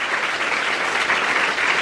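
Students and guests clap together at a school New Year celebration, a dense, loud, continuous burst of applause filling the brief moment without any talk.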